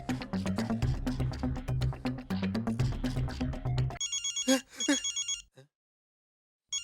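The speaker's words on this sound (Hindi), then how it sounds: "ये किसका फोन है?" A telephone rings in a Hindi TV comedy scene. A rhythmic drum-heavy music cue plays first, then a loud, bright electronic ringtone trills for about a second and a half and stops.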